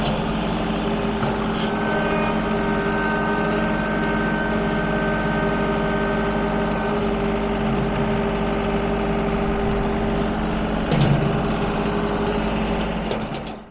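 A stump grinder chewing through a tree stump, a steady loud engine drone with a continuous grinding roar that holds evenly for the whole stretch before easing off at the very end.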